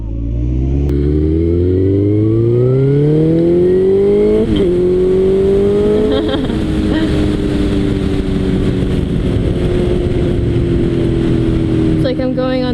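Motorcycle engine running steadily throughout a ride, its tone rising as it accelerates in the opening seconds and then holding a sustained drone, with voices talking over it.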